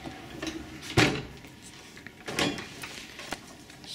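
Minibar drawer in a Skycity Grand Hotel harbourview room in Auckland sliding out, heard as a few sharp knocks and rolling slides with quiet room tone between them.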